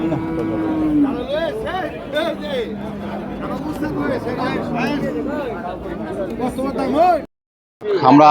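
Friesian dairy cows moo repeatedly amid a busy crowd of voices at a cattle market, with overlapping calls and chatter throughout before a brief silence near the end.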